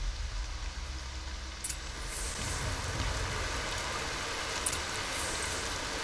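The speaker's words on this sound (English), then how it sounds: "More rain. My boots will get damp." Rain falls in a video game as a steady, soft broadband hiss with a few faint, brief taps scattered through it.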